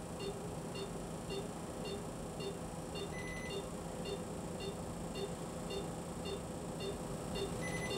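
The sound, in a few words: beep from Coolbreeze device reaching target temperature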